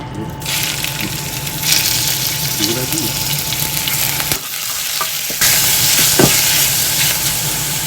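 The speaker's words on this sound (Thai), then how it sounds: "ทีนี้ก็ใส่เนื้อไก่ลงไปนะคะ" Chicken pieces stir-fry in a little oil in a Japanese clay donabe pot, a loud continuous sizzle with scraping and stirring, briefly interrupted, with a voice heard faintly.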